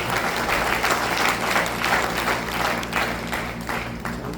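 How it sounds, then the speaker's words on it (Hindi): Sustained audience applause at a business seminar, a dense, steady wash of many hands clapping at fairly even loudness throughout, with no talk over it. "एक बार ताली बजाओ भाई"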